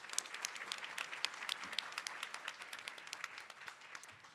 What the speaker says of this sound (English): Can we have one more round of applause for our first awardee?